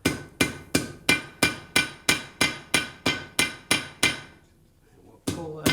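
Blacksmith hammering a heated horseshoe on an anvil while forging a door handle: twelve loud, ringing blows at a steady brisk rhythm, a pause, then another strike starting.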